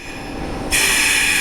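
Odakyu Romancecar express train on the Tokyo to Odawara line, its steady rail rumble jumping louder midway as the train draws close, with a bright hiss of wheels continuing to the end.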